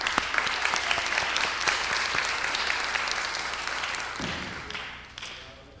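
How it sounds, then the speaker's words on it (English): A conference crowd at a South L.A. retail development panel applauds Commissioner Shaw, a dense burst of clapping with a few sharp near claps that thins and fades out over the last second. "So let's give a round of applause to Commissioner Shaw real quick."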